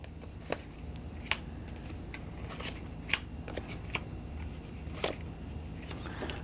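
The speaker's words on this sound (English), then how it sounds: "you're going to shuffle up this Trials deck here" A deck of Trials cards for the board game Astral Dreams being shuffled, quiet papery riffles with several sharp snaps and slaps spread unevenly across the stretch, alone with no talk.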